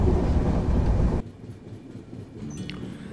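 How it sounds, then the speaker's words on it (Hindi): The Vivek Express passenger train crosses a rail-cum-road bridge, heard from on board as a loud rumbling roar that drops suddenly to a quieter hum of rolling wheels with a faint squeal. "यहाँ हमारी ट्रेन अभी पार कर रही है एक रेल कम रोड ब्रिज को"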